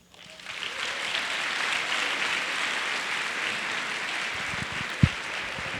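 Audience applause greeting Bekka Allick, a Nebraska student and volleyball player, at a talk: steady, dense clapping from a crowd that starts abruptly and holds level throughout, with one sharp louder clap near the end.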